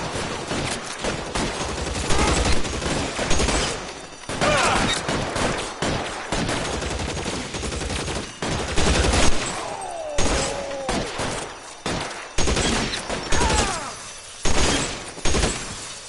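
Repeated bursts of suppressive gunfire in the crime game L.A. Noire, loud, dense volleys with short pauses, continuing steadily throughout.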